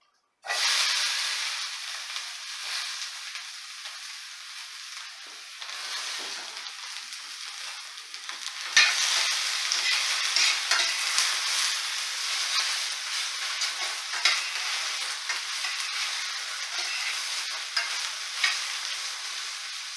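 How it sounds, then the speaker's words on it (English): Cold vegetables hit a ripping hot pan of olive oil and sizzle loudly, a steady crackling hiss that surges about halfway through and keeps popping and spitting close up, with no talk. "As always, we add cold vegetables to a hot pan."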